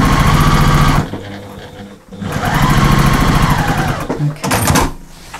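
A sewing machine stipple quilts a small table mat in loud, rapid needle bursts, running for about a second, pausing, then a longer stretch and a short final burst.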